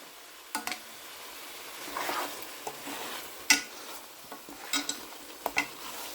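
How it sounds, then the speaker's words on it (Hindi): Chicken and cauliflower are stir-fried in a pan, with a low steady sizzle under repeated scraping and clinks of a spoon against the pan, close and without talk. "5-6 मिनट तक भूनेंगे। पानी की ज़रूरत पड़ेगी तो 1-2 टेबलस्पून पानी डाल देंगे साथ में।"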